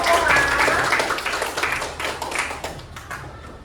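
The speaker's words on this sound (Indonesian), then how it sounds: "Tepuk tangan untuk kita semua" Children clap in a classroom, a brief burst of scattered, fairly close hand claps that fades out over a few seconds beneath light talk.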